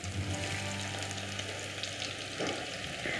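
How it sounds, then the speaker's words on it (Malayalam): Sliced onions sizzle in hot oil in a pan as they fry for Soya 65, a steady crackling hiss that stays close and continuous with no talk. "ഞാനൊരല്പം സവോളയും കൂടി വറുത്തെടുക്കുന്നുണ്ട്"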